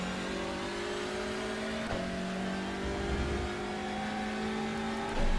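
A race car engine drones at steady revs with a faint tone shift as it changes gear and accelerates, heard from the cockpit in the iRacing sim at The Bend Motorsport Park, fairly quiet and continuous.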